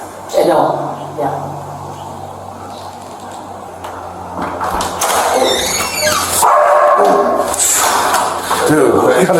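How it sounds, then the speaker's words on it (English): A big dog barks and yips several times at a residence, mixed with whimpers and door and movement noises, while people talk nearby over much of it. "Sound like a big dog."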